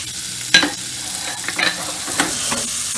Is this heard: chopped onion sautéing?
yes